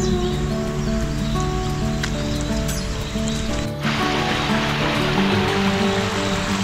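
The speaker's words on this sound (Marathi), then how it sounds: "सुंदर असा हा छोटासा वॉटरफॉल आपण या ठिकाणी पाहतोय" Small waterfall on a forest trek, a continuous loud rush of falling water with a steady broadband hiss and no pauses.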